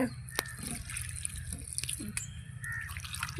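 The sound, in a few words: water poured onto tomato plant soil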